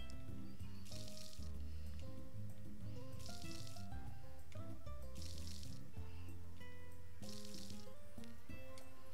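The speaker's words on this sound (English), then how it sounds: "we'll water everything" Crops are watered in the farming game Story of Seasons: A Wonderful Life, with four short, evenly spaced splashes over steady background game music.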